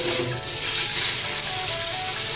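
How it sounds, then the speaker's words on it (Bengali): Boiled-down potatoes sizzle in hot oil as they're stirred together with a ground paste of poppy seed, black mustard and green chillies for a vegetarian eggplant posto; a steady, close, continuous frying hiss runs throughout with no voices. "পোস্তর সাথে আলুটা আবার ভালো করে মিশিয়ে নিচ্ছি"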